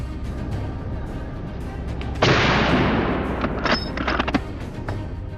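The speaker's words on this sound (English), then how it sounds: "A quick shot, and it was down" A single loud gunshot fired at a wild boar during a forest hunt cracks out and rings off, followed by a few fainter sharp echoes.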